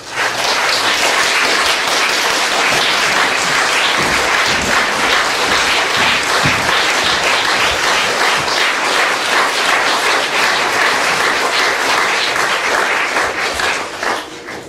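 Outdoor audience at an open-air Chopin concert applauding pianist Anna Fedorova, a dense sustained ovation of many hands clapping steadily for over ten seconds before tapering off.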